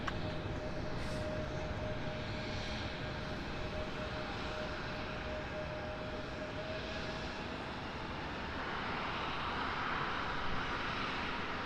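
A Breeze Airways Airbus A220 jet at Raleigh-Durham International Airport gives a steady, loud engine roar that holds for the whole stretch and swells slightly toward the end, with no talking.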